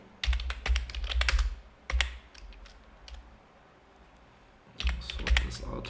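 Computer keyboard typing in bursts of rapid close clicks, with a pause in the middle before another quick flurry of keystrokes.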